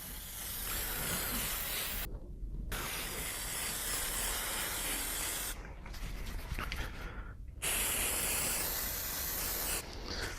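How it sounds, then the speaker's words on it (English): Revivex water repellent sprayed onto an archery quiver in long, steady hissing bursts, separated by short pauses, close and fairly quiet with no voices. "So what we do here is just spray."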